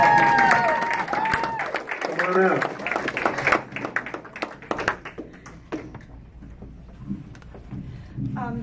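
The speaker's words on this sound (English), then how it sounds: "Please give a round of applause to Joe Rykoff." An audience at a local Republican club meeting claps for a speaker coming up, the dense patter of hands running several seconds under a voice and then thinning out as the room settles.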